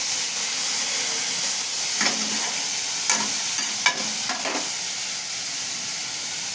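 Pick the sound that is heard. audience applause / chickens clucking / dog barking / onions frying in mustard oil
onions frying in mustard oil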